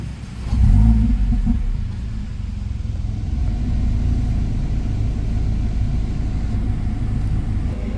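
A 2018 Mercedes-Benz car engine, just serviced for a brake pad wear warning, starts with a loud low rumble and holds a deep, steady revving drone close by for several seconds.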